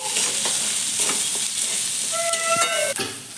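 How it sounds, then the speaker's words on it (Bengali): Turmeric is stirred into food frying in a pan, producing a steady, close sizzle with light scraping strokes and a few faint animal calls in the background. "এবার হলুদ দিয়ে দিয়েছে, এবার নেড়ে নিচ্ছে।"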